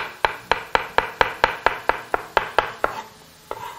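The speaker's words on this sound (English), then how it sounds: "we will proceed to chop up our mushroom." A sharp knife chops a mushroom very thinly on a board, about a dozen crisp, evenly spaced knocks at a quick steady rhythm, then a short pause and one final chop, close and clear with no talk.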